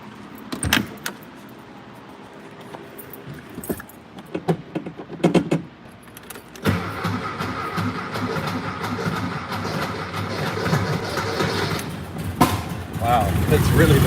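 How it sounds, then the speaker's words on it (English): A Mexican Volkswagen Beetle in poor condition starts up after some jangling and clunks, then its engine runs with a steady, rough, loud drone that swells toward the end. "You want to hear the Mexican Beetle run?"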